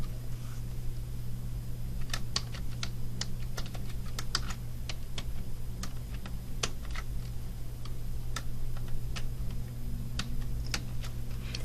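Keys on a computer keyboard are typed as a new password is entered, a run of crisp, irregular clicks close up over a low steady hum, with no talk.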